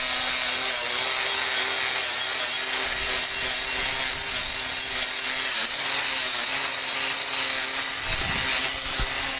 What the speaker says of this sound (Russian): Леша решил отомстить соседям, взял болгарку и пили.